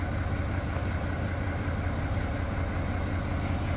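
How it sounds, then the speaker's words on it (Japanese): Bus engine idling nearby, a continuous low diesel rumble with a steady churning texture, loud and unchanging throughout with no talk over it. "バスの音響いちゃってる系だ。"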